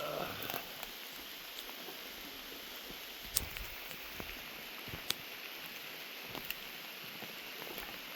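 Rain falls in a soft, steady hiss at a quiet outdoor spot, with occasional sharper drips and taps standing out against the faint background wash.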